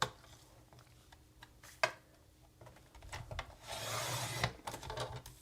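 Packaging tissue is trimmed for a cat journal cover, producing close, soft rustling and scraping cuts with a few sharp ticks, then a longer stretch of crinkly paper noise.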